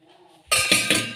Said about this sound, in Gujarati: આ તપેલી લઈ લીધી છે.